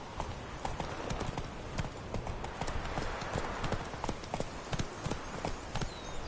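Roach the horse clip-clops along in The Witcher game, hooves striking in a steady rhythmic gait over a constant outdoor ambience, with no voices over it.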